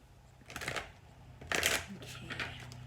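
Playing cards are shuffled in a few quick riffling bursts, close and crisp, with short pauses between them.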